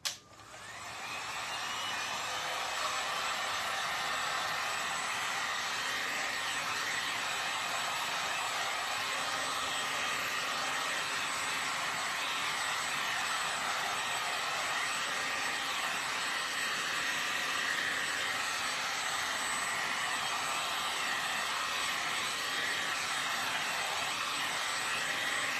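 A hair dryer drying fresh paint on a thrifted rooster figure. It starts up with a quick rise and then blows in a loud, steady, close-up whoosh with no talking.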